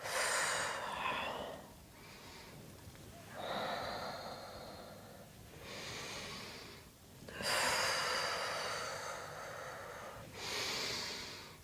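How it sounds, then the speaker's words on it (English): Slow, deep breathing during a yoga hip stretch, with long audible inhales and exhales alternating in an even rhythm, close and breathy with a faint nasal rasp. "Inhale forward, exhale back."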